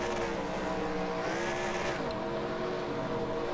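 Race car engine held at maximum RPM in the NASCAR Racing 2003 video game during a Talladega race, a loud, steady high-pitched drone with layered harmonics running continuously throughout, with a slight pitch dip midway.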